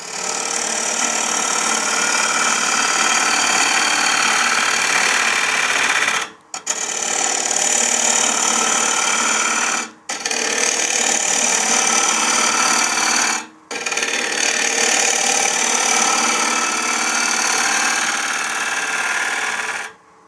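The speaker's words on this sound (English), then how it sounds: "We're moving at a fast RPM, which allows us to move our tool through that wood a lot quicker." Wood lathe spinning a wet bowl blank at fast RPM while a gouge roughs it down, a loud continuous hissing, shaving roar that cuts off abruptly three times in short pauses before resuming.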